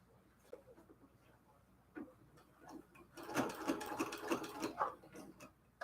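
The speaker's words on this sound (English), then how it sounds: "I have a small sewing machine here." A small sewing machine stitching a cathedral window quilt pillow case, starting as quiet scattered clicks and then running in a steady, loud, rapid mechanical whir for a few seconds, close by.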